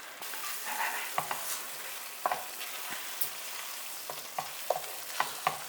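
Potatoes frying in butter with salt, black pepper, thyme and cumin, a soft even sizzle broken by frequent light taps and scrapes of a spoon stirring in the pan.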